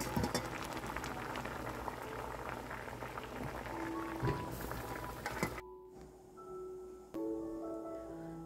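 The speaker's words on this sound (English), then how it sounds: "Boil for 1 minute." Water bubbling hard at a rolling boil in a pot for rice noodles, a dense, close churning that runs for several seconds, then drops abruptly to quiet with faint tonal sounds.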